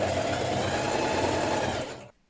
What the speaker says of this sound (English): I'm just top stitching it close to the edge like this